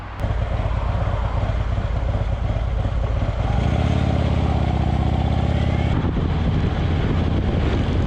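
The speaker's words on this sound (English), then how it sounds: "let's get back on the bike and take it up to the next spot" A motorcycle riding along US 97 near Hawks Nest, with a steady loud engine drone and heavy wind rush that deepens and swells in the middle before easing back, no talking.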